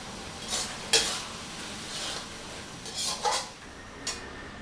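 A spatula stirs a tomato and egg stir-fry with scallions in a pan, a soft sizzle running under a few light scraping and tapping strokes, heard close with no talking.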